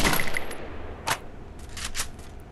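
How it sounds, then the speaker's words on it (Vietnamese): Gunfire in the mobile battle game Free Fire, a few sharp shots and short bursts scattered over a couple of seconds, fairly loud against quiet game ambience, with no talking. "không biết nó xài súng gì bắn khá là rát anh em ạ"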